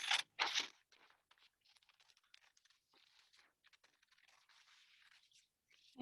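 Scissors snip across a paper sheet, starting with two loud, close crunching cuts followed by a long run of faint, small snipping and rustling sounds.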